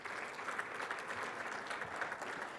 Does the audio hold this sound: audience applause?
yes